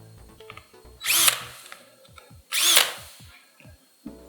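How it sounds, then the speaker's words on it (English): Electric drill running at full speed to mix epoxy resin in a container, two loud bursts of about a third of a second each, separated by quieter clatter and scraping. "When you're using this, particularly this drill, when I'm in the center here and not touching any sides, I go ahead and I'm full speed on my drill."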